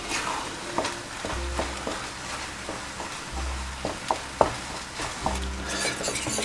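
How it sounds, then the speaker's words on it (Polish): Beetroot mixture being stirred with a wire whisk in a pan to smooth out lumps, giving repeated soft scraping and clinking strokes in an irregular rhythm, close and moderately quiet, with no talking. "i taką rózgą musimy to wymieszać tak, żeby nie było grudek"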